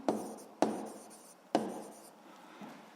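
Chalk or pen strokes on a board in a quiet classroom, three sharp taps followed by short scratchy trails of writing, fairly close and unaccompanied by speech.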